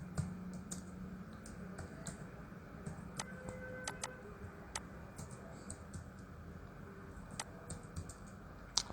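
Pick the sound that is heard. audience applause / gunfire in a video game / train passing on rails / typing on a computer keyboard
typing on a computer keyboard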